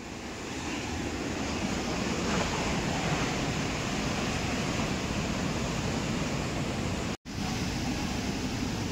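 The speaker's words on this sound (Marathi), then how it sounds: "भरपूर मोठ्या लाटा आहेत ते बघा." Big sea waves at high tide on a South Goa beach give a loud, constant surf roar with wind buffeting the microphone, one brief dropout near the end, no voices.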